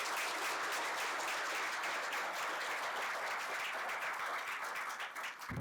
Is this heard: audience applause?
yes